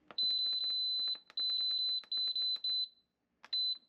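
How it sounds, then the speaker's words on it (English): Rapid, loud electronic beeping at a high pitch from an electric pressure canner comes in several long bursts separated by short pauses, piercing and insistent. "The beeping is horrid."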